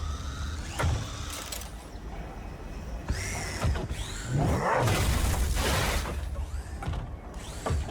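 Squeaky gate noise made by Mimic in the video game FNAF Security Breach, heard as a string of creaks, metallic squeals and mechanical clanks, fairly close and continuous with no speech.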